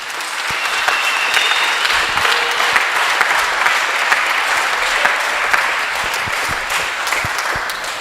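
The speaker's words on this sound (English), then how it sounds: "Can we please give them a round of applause?" An audience at a vocal ensemble concert in the Northern Cape gives the local choral music association loud, dense, continuous applause, with a steady roar of many hands clapping for the full stretch.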